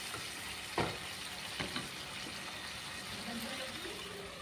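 Tomato and spice masala sizzles in a pan with sesame water for dim kalia, a soft, steady frying hiss with a few brief clinks of stirring, fairly faint and close.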